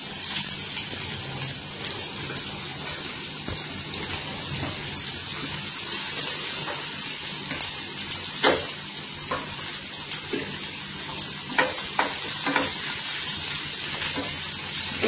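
Onion goes into a hot pan over a high gas flame for cabbage manchurian. A steady, hissing sizzle continues throughout with scattered small crackles and pops, close and moderately loud.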